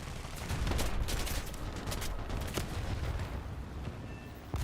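Sustained gunfire and explosions from the tank game War Thunder, dense overlapping shots with a few sharp louder cracks standing out over a continuous low rumble, no voices.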